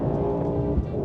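Mercedes-AMG GT 63 engine pulling uphill on a wet road after a downshift, a steady loud low drone throughout with a brief surge near the end.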